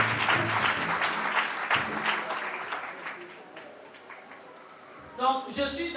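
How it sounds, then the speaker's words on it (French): A church congregation at a Sunday service applauding, with a burst of dense clapping that gradually fades, while voices speak and call out over it. "Acclame Jésus"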